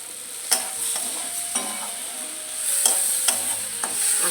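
Tomato chutney with melting sugar being stirred in a pan, several distinct spoon scrapes and knocks over a soft continuous sizzle, close up with no talking.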